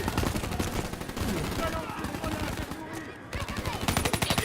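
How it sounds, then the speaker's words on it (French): Rapid gunfire in the Call of Duty: Black Ops 3 video game, a steady stream of automatic bursts throughout, loud and close, with brief pauses and voices speaking under it. "On nous tire dessus."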